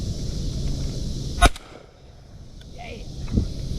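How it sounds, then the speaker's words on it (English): A single sharp shotgun blast during dove hunting on public land in Missouri, loud and close, followed by an outdoor hush with faint ambient sounds. "I'm gonna shoot this dove here first."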